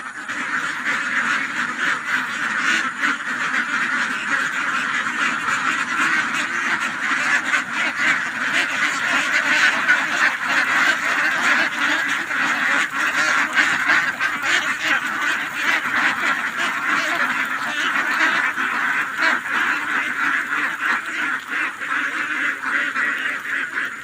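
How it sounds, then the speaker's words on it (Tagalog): Pet ducks being let out, a dense, loud chorus of many overlapping nasal quacks continuing without pause from near by. "Papalabas pa natin yung alagang itik natin."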